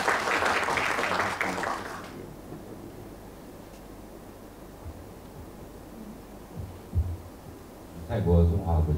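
Audience applause welcoming an ambassador to the stage at a Double Ten Day gathering, a dense burst of clapping that stops after about two seconds, leaving a quiet room before a voice starts speaking.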